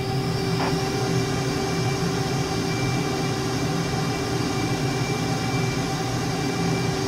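An F/A-18E jet engine at full throttle in a flight video game gives a loud, steady roar with a whining tone, unchanging and alone from start to finish.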